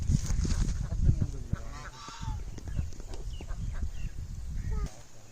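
Turkeys and ducks call together in a farmyard, a run of honking, gobbling fowl cries close by with a steady busy murmur of birds underneath, continuing throughout.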